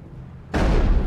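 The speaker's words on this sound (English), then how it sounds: "He's shooting at nothing." Gunfire from the character Rex shooting in Mass Effect, a sudden heavy booming burst after a half-second lull, loud and close, sustaining to the end.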